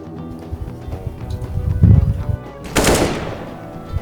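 AK-47 rifle fire in the video game CS:GO comes as a short burst of rapid, punchy shots, followed by a sharp, bright blast, all close and loud, with no speech over it.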